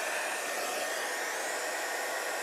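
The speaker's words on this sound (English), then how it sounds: "a blow dryer works a lot better in this case" A blow dryer pushing a steady stream of air over a worn, cracked leather car seat, a constant close hiss with an even tone throughout and no voices.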